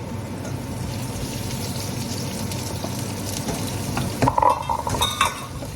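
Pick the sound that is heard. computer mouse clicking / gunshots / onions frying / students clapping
onions frying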